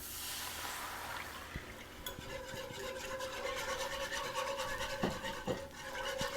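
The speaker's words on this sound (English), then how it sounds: "And just whisk, whisk, whisk." Milk and flour whisked with butter in a pan for chocolate gravy, a continuous brisk scraping swish against the pan, close and steady, with a couple of soft knocks.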